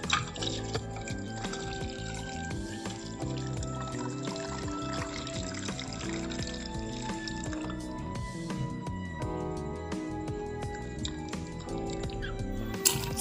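Tea is poured over ice cubes into a boba drink with tapioca pearls, giving a continuous close splashing and trickling stream with clinks and drips, no voices heard.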